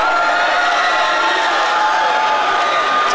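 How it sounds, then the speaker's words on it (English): A large crowd at a live event in Rantoul cheers and roars loudly and continuously, a dense wall of voices with no break. "listen to the crowd!"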